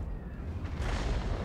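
A single deep tank cannon blast in the game World of Tanks, a heavy booming report rising midway and rumbling on over engine noise.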